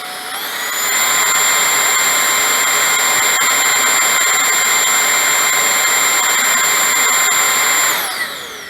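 A Holife cordless vacuum runs on its high setting, a loud, piercing steady whine with strong high-pitched tones, close and alone, spinning down near the end.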